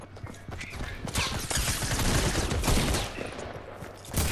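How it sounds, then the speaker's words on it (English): A suppressed pistol fires repeatedly in a battle royale video game, a dense run of muffled, rapid shots close up over game noise, loud and continuous with no pauses. "I'm just trying to use the suppressed pistol"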